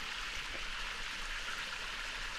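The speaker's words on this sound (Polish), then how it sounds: "Tam malutki wodospadzik." A small waterfall on a little river near a swimming spot, a steady soft rushing and trickling of water heard alone at a distance, with no voices.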